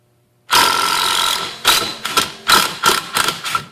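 A Ryobi One Plus 18 volt impact driver running in reverse to back out a stuck screw gives one sustained loud rattling burst, then a series of short hammering bursts, close up.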